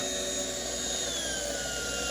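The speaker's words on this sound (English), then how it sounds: "It's not a gun. It is. It's a drill." A power drill whines steadily up close in a garage setting during work on an LS-swapped 1988 Monte Carlo SS, a loud continuous motor tone lasting a couple of seconds with no voices.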